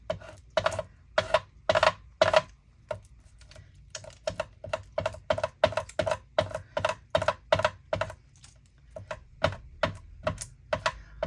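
A bone folder burnishes a paper die cut for a hummingbird card, giving a fast, close series of dry tapping and rubbing strokes in an uneven rhythm with short pauses.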